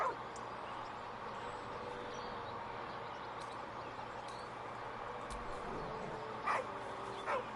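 The dog Scratch in Baldur's Gate 3 gives a couple of brief whines near the end, over a quiet, steady game ambience.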